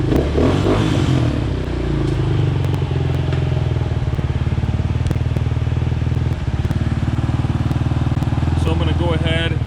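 Yamaha Raptor 250 ATV engine idling nearby with a steady loud putter and rattly clatter, and someone speaking over it.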